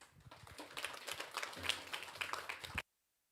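Applause from a congregation during a Korean church Sunday service, a brief burst of mixed clapping that swells and then stops abruptly, heard fairly faintly in the room.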